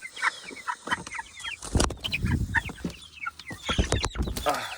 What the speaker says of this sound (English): Oh, these are the worst chickens,